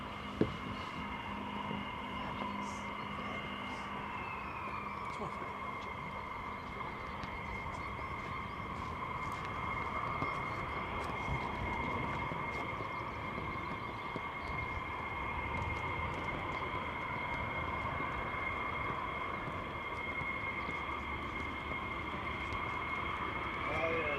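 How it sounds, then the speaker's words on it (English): Fighter jets flying at RAF Lakenheath give a steady, distant engine roar with a high whine, sustained throughout at a low level while people talk faintly. "He's been making a lot of noise, isn't he, for a single jet?"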